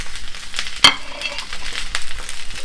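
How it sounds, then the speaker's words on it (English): Onion and capsicum tossed and stir-fried in a hot pan for baby corn chilli, a steady sizzle with scraping stirs and one sharp clack of a utensil against the pan, close and fairly loud, with no voices. "And then herein goes the onion and the capsicum."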